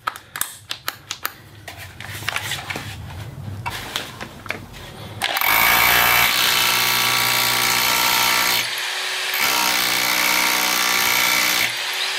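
A power drill whines loudly and steadily while drilling into concrete, briefly pausing before resuming, after a stretch of scattered clicks and knocks.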